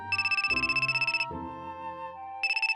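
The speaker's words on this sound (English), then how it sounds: "I was running away from reality when my phone rang." A phone rings with a bright electronic ringtone, repeating warbling bursts of tones that pause briefly and then resume, clear and close with no voices.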